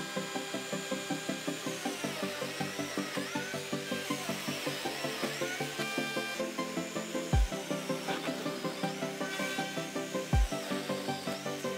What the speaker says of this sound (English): now I'm gonna add some lamellos in it